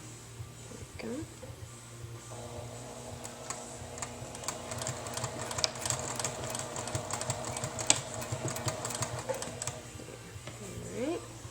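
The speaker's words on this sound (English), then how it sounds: "So now I'm going to sew the other side." A Juki TL2010Q sewing machine stitching fabric, a steady fast mechanical whir with needle ticking that runs for several seconds, close and moderately loud, with a brief pause partway through and some faint background noise.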